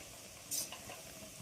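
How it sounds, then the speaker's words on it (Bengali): Cabbage pakoras fry in a pan of oil with a soft steady sizzle while a fork scrapes and clinks briefly as they are turned, close and quiet. "এভাবে একটা কাঁটা চামচ নিয়ে উল্টে দিচ্ছি"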